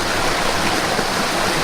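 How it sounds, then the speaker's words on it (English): Small unmarked wilderness forest stream flowing over rocks, a steady, loud, close rushing and bubbling wash with no voices. "This is not a marked stream."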